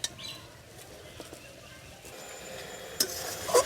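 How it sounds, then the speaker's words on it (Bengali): Taro leaves with prawns are stirred in a pan, with soft scraping and gentle sizzling close by, a few sharper clinks near the end and faint bird chirps in the background. "তো তার জন্য এরকম ঘন ঘন নাড়তে থাকতে হবে।"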